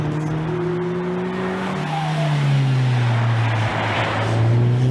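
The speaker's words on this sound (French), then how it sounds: "le 2 litres TFSI 4 cylindres à injection directe turbo apparaît comme très discret" A KTM X-Bow R sports car with a 2-litre four-cylinder TFSI direct-injection turbo engine, 300 hp, drives on the Paul Ricard circuit. Its engine note is loud and steady, and the pitch climbs as it accelerates.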